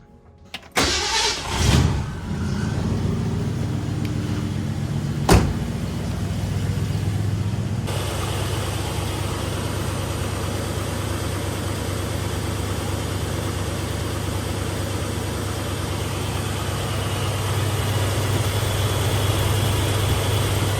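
A 1966 Ford Galaxie with a 289 V8 and a new 200 amp Powermaster alternator turns over and catches, then idles steadily and close for about twenty seconds with no talking.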